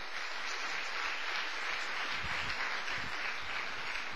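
A church congregation claps in praise during a worship service, a soft, steady wash of clapping heard from a distance at low volume.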